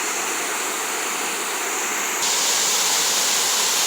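A waterfall in the Maine Northwoods, running high, roars steadily, a constant broadband hiss that grows brighter and louder partway through.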